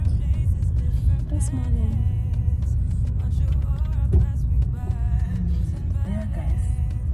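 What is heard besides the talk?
car driving to work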